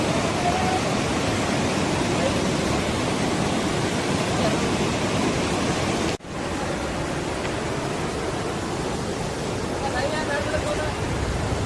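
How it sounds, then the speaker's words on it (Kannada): Godachinamalki waterfall near Gokak roars as a loud, dense, unbroken wall of rushing water, close and constant, with one brief dip partway through. "ಹೆಂಗೈತೆ ನೋಡ್ರಿ ಕೊಡ್ಚಿನಮಲ್ಕಿ ಫಾಲ್ಸ್"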